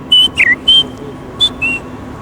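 A person whistles a short melody in a few clear, piercing notes separated by gaps, close and loud over quiet room noise.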